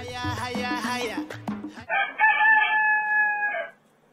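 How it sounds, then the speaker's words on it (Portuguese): A rooster crows loudly and close by, one long cock-a-doodle-doo that follows a burst of clucking and cackling, then ends in a sustained high cry before stopping abruptly. "só falta ele, meu galo"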